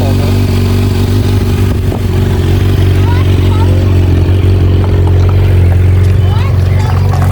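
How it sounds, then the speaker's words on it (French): Loud, steady motorcycle engine idling and revving nearby outdoors on a gravel spot, a constant low drone with rising rev swells and some clatter, while people talk over it. "T'as fait un tour de moto, Noah."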